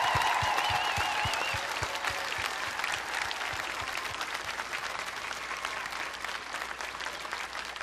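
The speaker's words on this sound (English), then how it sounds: "To Pearl, to Daisy, and Gord, can we give them a round of applause?" Sustained applause from a large audience at a WE Day Canada event, warm and even, a few louder claps standing out early before it settles into a steady roar.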